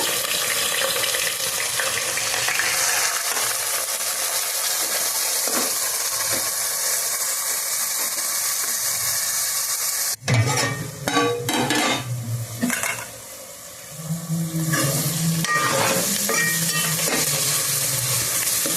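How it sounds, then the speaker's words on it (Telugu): Onions and green chillies frying for a prawn curry, a loud continuous sizzle that breaks off sharply midway, followed by clattering stirring and utensil knocks against the pan as the frying continues. "ఉల్లిపాయలు పచ్చిమిరపకాయలు బాగా ఎర్రగా వచ్చేదాకా అయితే వేయించుకుందామండి"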